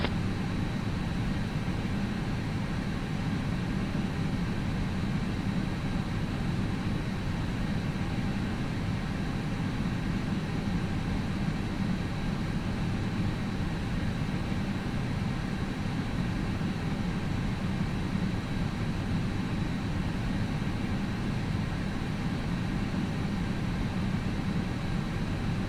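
A jet airliner takes off from Taoyuan International Airport, bound for Macau, heard as a steady, dense engine roar and rumble that holds constant and fairly loud throughout, with no voices.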